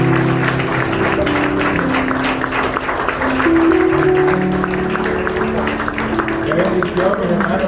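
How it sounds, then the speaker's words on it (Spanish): A church congregation claps during a worship service, a busy patter of hands blended with sustained music and voices throughout. "Den un aplauso al Señor."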